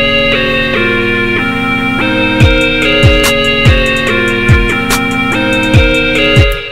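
A trap beat built in FL Studio, with a synth lead melody layered over the drums and claps. The sustained tonal notes change pitch every half second or so, with steady hits and punchy low 808-style drops beneath.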